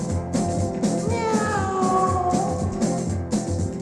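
A voice imitates a cat with a drawn-out, wavering meow in place of a tiger's roar. It rises and falls over steady, rhythmic country band music, clearly heard against the backing.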